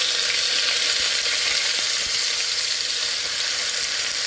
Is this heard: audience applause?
no